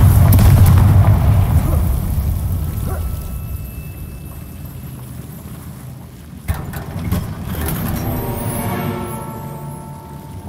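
A Confringo fire spell explodes in Hogwarts Legacy, a loud, close, rumbling blast that opens at full force, then slowly thins into a sustained roar with a second burst partway through.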